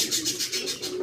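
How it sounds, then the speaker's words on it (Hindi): A pet dove cooing in a cage, a repeated soft rhythmic coo of about six pulses, close and moderately loud, with a faint scratchy background. "ये हमारी दूसरी डव भी आ गई है"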